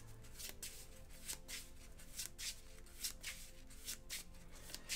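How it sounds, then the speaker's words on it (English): Playing cards being shuffled by hand during a tabletop session of the Marvel Legendary deck-building game, a steady run of close riffling bursts with no talk over it. "All right, this side needs to shuffle."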